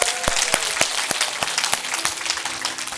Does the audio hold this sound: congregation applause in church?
yes